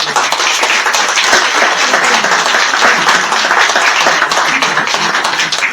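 Dense, steady audience applause fills a lecture hall as a conference speaker, a historian, is welcomed, with many hands clapping loudly and continuously throughout.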